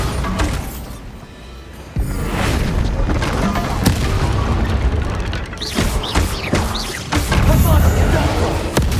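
In the video game Hogwarts Legacy, Bombarda blasting spells go off as loud booming explosions with crashing debris, several heavy bursts in succession, close and dense, with a voice speaking over part of the action.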